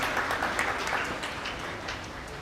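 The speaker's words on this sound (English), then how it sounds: "Another round of applause." Audience clapping at a high school swim meet's senior night, a steady spread of many hands in an echoing natatorium, moderately loud and continuous for a couple of seconds with no talking.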